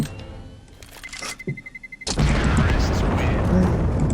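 A grenade explodes in the video game CS:GO, a sudden loud blast cutting in midway and followed by a sustained roaring rumble, after a few clicks and a brief voice.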